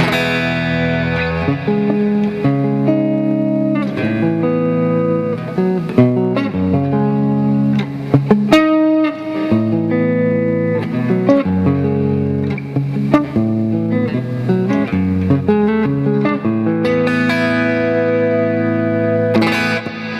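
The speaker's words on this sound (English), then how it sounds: "This is just the plexi head itself. Little crunch. Plate reverb." A Squier Classic Vibe Telecaster plays chords and riffs through a crunchy, lightly distorted plexi amp head, with a wash of plate reverb trailing each note; steady and fairly loud, no talking.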